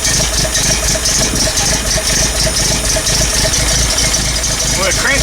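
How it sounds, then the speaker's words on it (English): The engine of a 1979 Toyota Land Cruiser with a two-barrel carburetor cranks steadily over a brand-new starter with a slow, rhythmic chugging, loud and close, while someone talks. "it cranks over slow for having a brand new starter on it"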